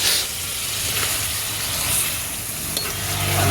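Meat sizzles in a pan with spices and softened onion, giving a continuous, fairly close frying hiss and crackle without voices.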